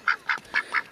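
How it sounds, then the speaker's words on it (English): A pet duck quacks four times in quick succession, each call short, nasal and close, spaced evenly with brief gaps in between. "Quack, quack, quack, quack, quack, quack"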